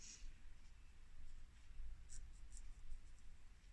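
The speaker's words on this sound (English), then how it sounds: "just really how smooth this pen goes on to this paper" A pen glides across smooth hot-press watercolour paper with very little grain, making a soft, continuous faint scratching with a few slightly sharper strokes over a low background hiss.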